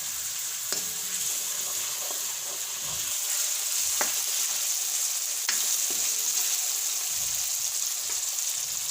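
Tomatoes cooking down in a pan for chavana nu shaak, a steady loud hiss of sizzling with a few sharp ticks and taps of a utensil, close and continuous.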